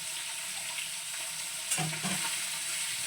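Prawn heads frying in a pan for buttery prawn polao, a steady close sizzle with stirring scrapes and a brief louder clatter partway through.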